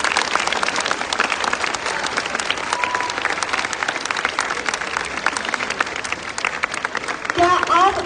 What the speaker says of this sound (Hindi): एक बार फिर से जोरदार तालियां DCRG की टीम के लिए।